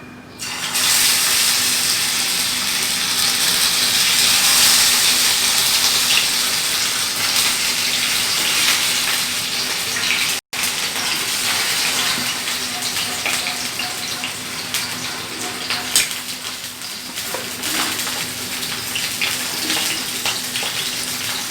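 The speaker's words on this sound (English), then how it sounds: "I will have to fry these fish. So heat the oil, take any oil of your choice and then fry it." Pomfret fish frying in hot oil, a steady broadband sizzle that holds loud and continuous for the whole stretch with a brief dropout midway and no talking.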